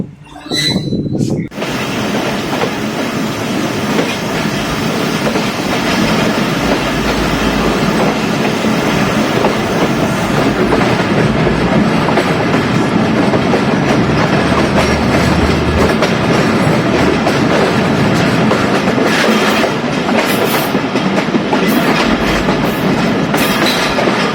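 Bolan Mail passenger train of Pakistan Railways running on rails between Quetta and Karachi, a loud continuous rumble with steady clickety-clack of wheels over rail joints, heard from on board throughout.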